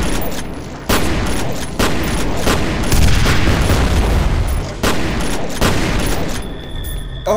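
Shotgun blasts in the video game F.E.A.R., several loud booming shots at an uneven pace over dense, continuous combat noise.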